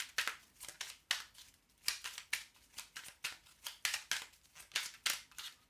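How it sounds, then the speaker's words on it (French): During a card reading, cards are laid out one after another, making a quiet run of crisp, papery snaps and flicks in an uneven rhythm, about a dozen in all, with no voice over them. "On va mettre encore des cartes."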